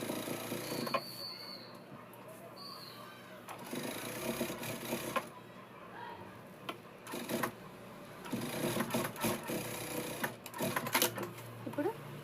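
A sewing machine stitches a Punjabi dress in bursts of rapid, steady mechanical whirring, quiet and close, stopping and restarting while someone talks over and between the runs.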